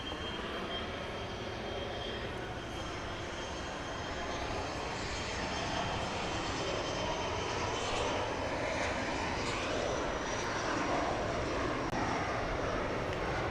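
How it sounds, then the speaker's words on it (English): A Southwest Airlines Boeing 737 MAX 8 approaches to land over downtown Dallas near Love Field, a steady, fairly distant jet engine rumble and whine that builds slightly as it nears. "Coming in over downtown here on the west side, flight 2251, Southwest Airlines from Lubbock, Texas, a MAX 8."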